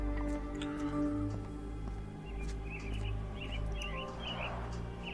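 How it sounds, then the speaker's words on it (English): Caged mynah birds give a few short, faint chirps and trills partway through, over a low steady hum with soft ticking in the background. "Minor birds, if I'm not mistaken. Beautiful creatures. Sad that they're caged here."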